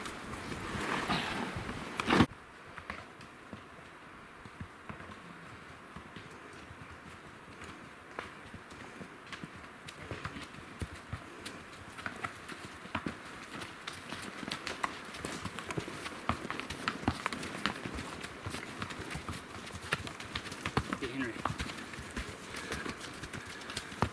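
Pack horses on a backcountry elk hunt in Montana plod along with steady, soft hoof clops, near and continuous under outdoor ambience, with no talking.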